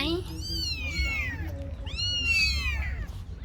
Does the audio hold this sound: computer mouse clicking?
no